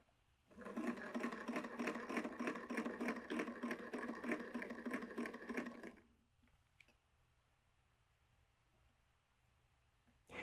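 A hand-cranked modular circuits generator is turned steadily, giving a fast, even whirring rattle for about five seconds. It stops abruptly, leaving near silence broken by a single faint click.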